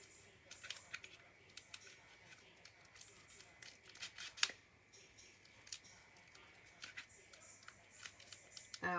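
Scissors cut card stock for a handmade card: faint, scattered snips and clicks over about nine seconds, close but very quiet, with one sharper snip in the middle.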